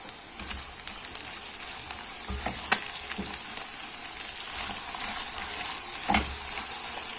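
Onions, chicken liver and gizzards frying with crushed garlic in a pan, a soft, steady sizzle with occasional sharp stirring scrapes and taps, close and quiet, with no voices.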